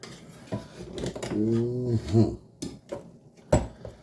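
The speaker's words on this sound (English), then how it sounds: "Okay, the rice is done. I'm just fluffing it up." A utensil scrapes and knocks through freshly cooked rice in a pot, fluffing it with a few uneven scrapes and clicks, close by, while a voice briefly hums or speaks over the middle.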